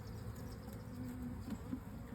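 Honey bees drone inside a hive, a steady low buzzing hum with faint rising whines of individual bees, close and continuous with no voices.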